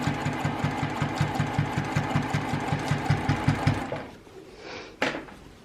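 A sewing machine top stitches around a reversible tote bag in a steady, fast mechanical rattle of needle strokes, close and continuous for several seconds, then stops abruptly, followed by a brief handling clatter.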